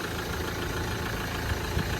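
A car engine idles steadily during a resale inspection while its blow-by gases and oil leaks are checked, giving a continuous close rumble with faint knocking.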